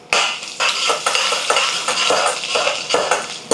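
Garlic, chana dal, urad dal and mustard seeds fry in hot oil with a continuous close sizzle, while a spoon repeatedly scrapes and stirs the pan in a loose rhythm.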